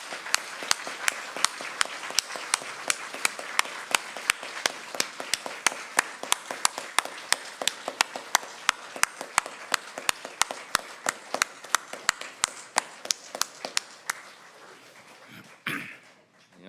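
An audience on its feet gives a sustained standing ovation, dense steady applause rolling on for about fifteen seconds before tapering off, with no talk over it.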